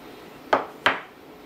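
Two quick knocks of a spoon against a container while milk kefir grains are stirred, close and fairly crisp, spaced about a third of a second apart over a quiet background.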